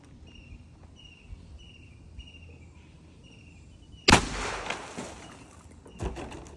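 A single sharp gunshot from a .22 WMR rifle firing a semi-jacketed round, loud and close, cracking out of a quiet outdoor background with insects chirping, followed by a brief fainter clatter a couple of seconds later.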